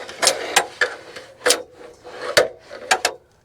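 An extension ladder slides down along the siding of a house, giving a series of scraping, rubbing strokes in uneven bursts, fairly close and clear with no talk.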